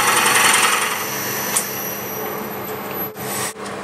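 A drill with a 14 mm bit cuts a small notch into yew wood for a nutcracker figure, giving a steady, loud broadband grinding whir that runs continuously, with brief dips near the end.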